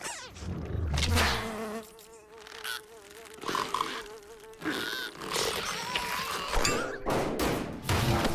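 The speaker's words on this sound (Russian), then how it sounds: "Муха." Cartoon housefly buzzing in changing bursts in the cartoon Oscar's Oasis, the whine rising and dipping as if darting near and away, broken by a few thumps and clattering hits, with no speech.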